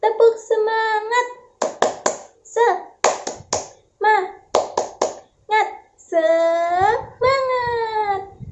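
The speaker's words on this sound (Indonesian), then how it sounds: "Kita tepuk semangat bersama-sama ya." Classroom group doing a rhythmic spirit clap, sharp bursts of hand claps in a patterned beat alternating with chanted voices of a teacher and children.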